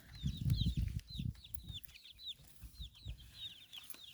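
Muscovy ducklings on young grass, a steady stream of high thin peeping calls repeated many times, with low soft thumps and rustling close by.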